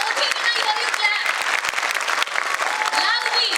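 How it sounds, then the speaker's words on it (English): A large crowd of parents and children at a school event bursts into loud, dense applause and cheering, with shouted voices mixed through the clapping. "So I want to hear a big round of applause."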